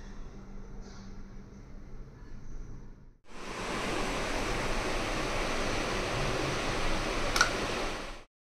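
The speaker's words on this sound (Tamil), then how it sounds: "இப்போ நம்ம இதில் வந்து தண்ணி சேர்த்து அரைச்சி எடுத்துக்கலாம்." A mixer grinder blends soaked raisins with water. After a few seconds of quiet room tone it starts abruptly into a loud, steady whirring roar, holds, then cuts off sharply.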